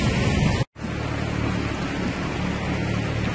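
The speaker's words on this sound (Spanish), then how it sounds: "chequen ustedes el corrientón, la corriente de agua de lluvia muy tupida" A heavy early-morning downpour on a street in Pénjamo, with stormwater rushing along the roadway, makes a dense, loud, continuous hiss of rain that briefly drops out once before resuming.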